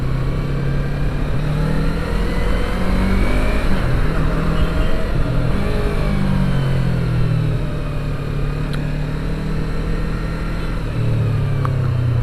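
A Yamaha R3 300cc sport motorcycle engine revs continuously with steady throttle changes, its loud, close drone rising and falling throughout without pause.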